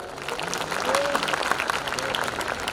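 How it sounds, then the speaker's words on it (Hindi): Soft applause rises from an audience at a comedy event for the orchestra and singers, a brief diffuse patter heard at a distance with faint voices and tones underneath. "सारे कलाकारों के लिए जोरदार तालियां एक बार"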